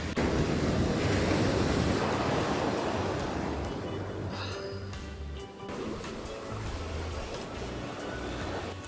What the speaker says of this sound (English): The waves are crashing behind me.